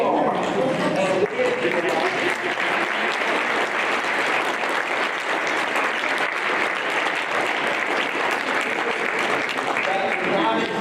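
Sustained audience applause fills a fundraiser dinner hall, dense and steady for about ten seconds with no pauses, a full crowd clapping together.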